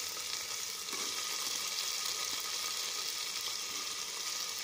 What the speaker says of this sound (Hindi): साथ ही इसमें मिला लेंगे प्याज